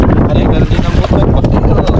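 A boat motor runs on the water on an island trip, a loud, close, rough engine drone mixed with heavy wind buffeting the microphone throughout.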